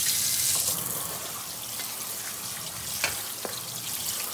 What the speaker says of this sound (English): And then we're going to give it just another quick little rinse.